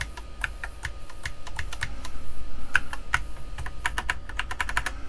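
Keys on the keypad of a Tandy Model 4P computer keyboard being pressed during a diagnostics test, giving a run of crisp, close clicks at an uneven pace with no talk.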